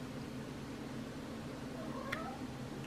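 A cat lets out a single short meow over a steady low hum of background noise.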